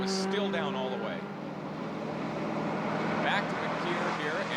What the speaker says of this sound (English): You can hear the throttle was still down all the way.